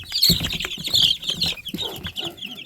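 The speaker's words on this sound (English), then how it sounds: "I don't know what kind of chicken you are, buddy, but you are so cute." Young chickens on a farm cluck and peep in quick, repeated bursts, close and fairly loud, with a few soft wing flutters mixed in.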